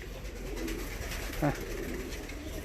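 Yellow Volski fancy pigeons in a coop in Adıyaman give a brief, soft coo over a steady background hiss.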